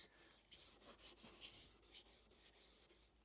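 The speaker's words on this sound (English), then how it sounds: "So if I just give it a little bit more Scotch-Brite" Scotch-Brite pad scrubbing an aluminum fuel injection part from a 1972 Mercedes 280SE 4.5, heard close up as a steady series of quick, rhythmic abrasive rubbing strokes, about four per second, with no talking.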